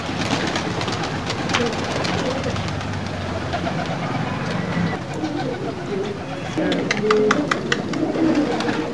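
About 200 pigeons coo steadily in a noisy outdoor flock released to fly, with bird calls and faint flutters layered over a constant background rumble.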